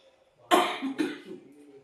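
A woman gives a sharp, close double cough, two harsh bursts about half a second apart, in an otherwise quiet room.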